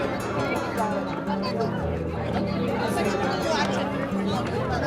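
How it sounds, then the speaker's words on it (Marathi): Dense crowd chatter at a packed temple darshan in Maharashtra, many overlapping voices forming a continuous babble with nearby talk mixed in. "आज खूप भीड आहे. खूप भीड आहे."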